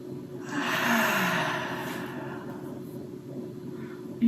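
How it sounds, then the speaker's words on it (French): A slow, deep breath taken during a calm guided relaxation exercise, drawn in as a soft, airy rush that peaks and then fades over several seconds, quiet and close, with no talk. "On va juste prendre une bonne respiration."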